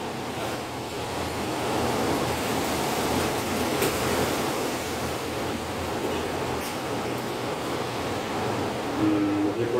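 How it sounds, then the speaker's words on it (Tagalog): Typhoon signal no. 10 winds in Macau blow hard and unbroken, a loud, dense roaring rush buffeting the microphone, with no one speaking. "Yan, lumalakas na hangin."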